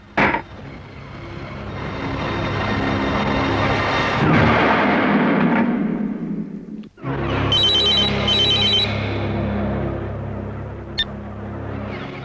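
A telephone rings in short repeated bursts partway through, over a loud, dense rumbling background that drops out briefly before resuming.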